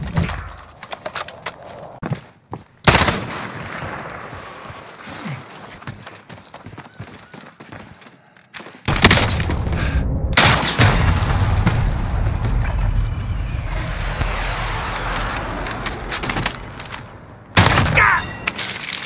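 An allied precision airstrike in a video game lands as a rapid barrage of booming blasts and crackling gunfire-like impacts, loud and dense, coming in several heavy bursts with a brief lull between them.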